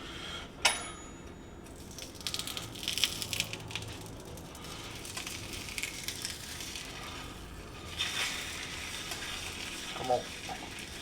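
Eggs fry in a pan with a soft, continuous sizzle and crackle, with occasional clinks and scraping of a utensil, all fairly quiet and close.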